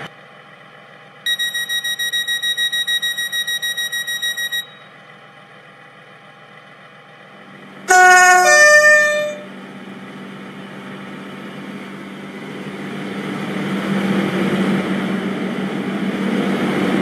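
A steady, synthetic train horn tone in Stepford County Railway sounds for about three seconds over a low engine hum, followed later by a brief burst and a swelling rumble.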